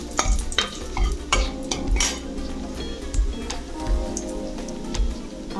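Three small bay leaves drop into hot oil for moong dal, a crackling sizzle broken by repeated clinks and scrapes of a spoon stirring against the pan, close and busy.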